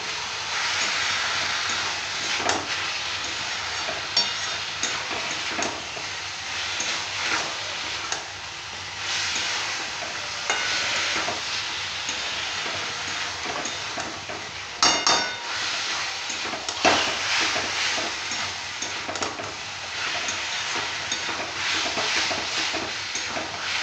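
Meat being sautéed in a pan for a thin papaya and meat curry, a steady broadband sizzle and hiss running throughout with occasional metallic clinks of a spatula against the pan, close and continuous.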